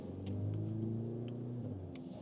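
A Mercedes-AMG GLC 43 accelerates with its sound emulation switched off, producing a steady, fairly quiet low engine drone heard from inside the cabin. A faint rise in pitch builds briefly, with no talking.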